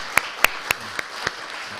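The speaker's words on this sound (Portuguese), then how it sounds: "aplausos também" A handful of sparse, separate claps from a small audience after a Portuguese-language talk about books, about five distinct hand claps spaced unevenly and fading off, with a quiet room between them.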